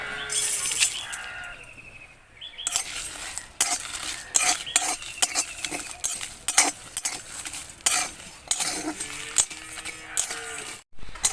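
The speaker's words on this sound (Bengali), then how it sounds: "তো বাদবাকি মশলাগুলো এবার আমি দিয়ে দেবো।" Dry red chillies and whole spices fry in a pan with a steady crackling sizzle. Frequent clinks and scrapes of a spoon stirring them continue throughout, close and fairly loud.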